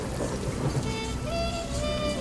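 A stormy sound effect of steady rain pattering on surfaces with a low rumbling underneath, continuous and fairly loud throughout with no voices.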